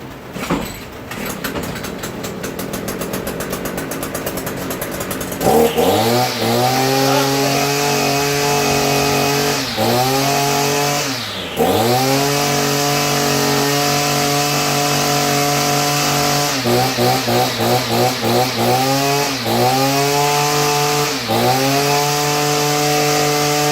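A weedeater two-stroke engine being throttle-tested after a trigger repair: it starts quietly, then roars up loud and close, with several rev dips and surges and a fast stuttering patch near the end.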